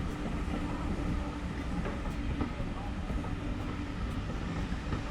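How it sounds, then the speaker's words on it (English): Inside a train carriage on the Isle of Wight line toward Smallbrook Junction, a continuous low rumble and rolling rail noise with faint rhythmic clicks, steady and enveloping, with a bit of background voice. "That's my return train to Smallbrook Junction."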